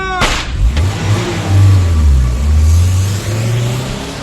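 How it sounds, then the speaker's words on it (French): A car engine starts with a sharp burst and then revs as the car pulls away on a Paris street near Place Clichy, a rising and falling drone that stays close and loud throughout. "J'ai vu une voiture qui démarrait vers la place Clichy."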